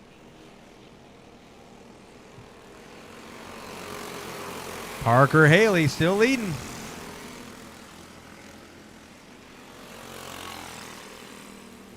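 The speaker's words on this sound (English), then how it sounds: "These kids are on these plated clone engines, but they are still whining them for everything they got." Racing karts with plated clone engines whine past under a commentator's voice in a Junior 1 kart race, a brief loud rising-and-falling buzz flaring up mid-clip against a steady background drone.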